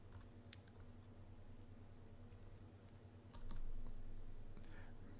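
Quiet computer keyboard keystrokes and a few mouse clicks while a file is renamed, faint scattered taps over a low steady hum, with no talk.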